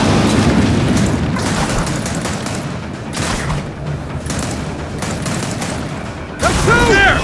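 Gunfire aimed at webbing in Gears of War 4, a loud, dense stream of rapid shots and booming impacts that ends in a sharp burst, with shouted voices mixed in.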